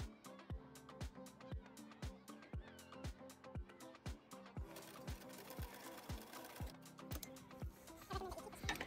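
A sewing machine stitches darts into the front and back sections of a doll skirt, its needle thumping in a steady rapid rhythm, close and loud, speeding into a denser whir partway through.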